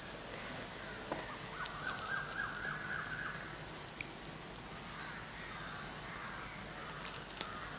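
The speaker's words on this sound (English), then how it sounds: "as you listen to that bird" Outdoor ambience with scattered bird calls, including a few faint caws and chirps at a distance over a low steady background hum.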